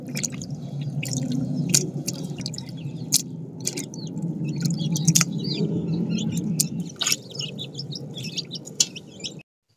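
Chopped country chicken pieces are washed by hand in water in a home kitchen, with wet squishing and dripping sounds and a low running wash under them, while birds chirp now and then in the background.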